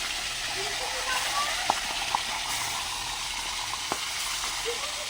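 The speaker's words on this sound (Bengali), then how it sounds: "এবার দেখুন আমি এক এক করে মাছটা গরম তেলে দিয়ে ভেজে নিচ্ছি" Magur fish pieces frying in hot oil make a dense, steady sizzling hiss up close, with a few sharp pops and crackles rising from it throughout.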